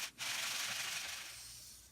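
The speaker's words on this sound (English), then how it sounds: "I have to get rid of all the little bumps and irregularity with some good old-fashioned hand sanding" Steady dry rasping of sandpaper rubbed over wood, a continuous close scratchy hiss with a brief pause near the start.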